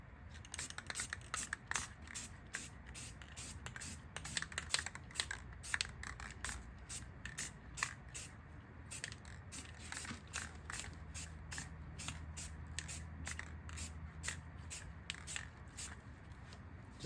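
Rapid short bursts of spray paint hiss from an aerosol can as a light dusting coat goes onto car wheel rims, steady and close, repeating in quick pulses with brief gaps and no talking.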